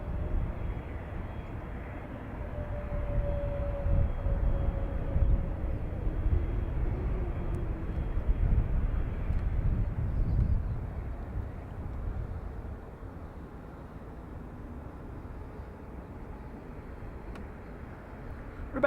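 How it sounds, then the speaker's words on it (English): A Falcon business jet at Dublin Airport gives off a steady, broad engine roar that swells and then fades slightly, with no talking over it. "It's one of the biz jets I mentioned. Falcon."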